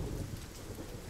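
Heavy rain pours down with rumbling thunder during a storm, a dense, steady wash of sound with low rolls beneath it, heard alone without talk.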